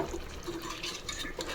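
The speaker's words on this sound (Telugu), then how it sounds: "ఈ వాటర్ అన్నీ దీంట్లోకి వేసేస్తాము" Water is poured into a chicken and potato curry masala paste in a pot, a close, continuous liquid pour and splash running through the whole short moment without speech.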